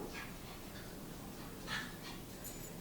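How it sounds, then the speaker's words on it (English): A dog whimpers quietly indoors, a few faint high whines and breathy pants scattered over a soft steady background with no talking. "Sorry, my dog."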